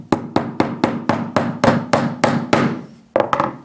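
A hammer knocking in small cable clips, about a dozen sharp, evenly spaced close strikes in quick rhythm, a brief pause, then two final knocks.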